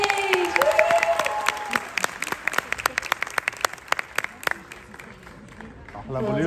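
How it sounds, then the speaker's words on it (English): Applause from an audience at a school graduation ceremony as children leave the stage, a sustained patter of clapping with sharp individual claps, under an amplified voice at the start. "Give him a big round of applause again as they leave the stage"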